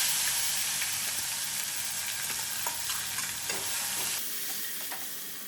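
Chopped onions hit hot tempering oil with mustard seeds, cumin, asafoetida and turmeric, sizzling steadily with soft stirring scrapes, then the hiss quiets abruptly near the end.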